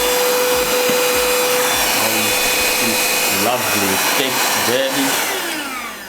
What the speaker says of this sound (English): So this is a vacuum cleaner for your car, computer.